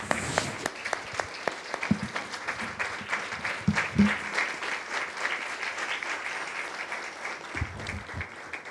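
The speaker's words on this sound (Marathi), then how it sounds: "ते पुढे येत असताना टाळ्या वाजवूयात" A church congregation applauds during a Palm Sunday service, a steady, moderately loud wash of many hands clapping that carries on unbroken from start to finish.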